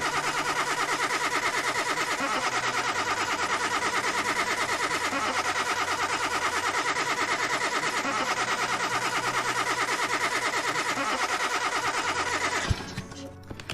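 Car engine with an ignition problem in the game Car Mechanic Simulator 2021, a steady dense rattling, buzzing engine drone running loud and unbroken before cutting off abruptly near the end.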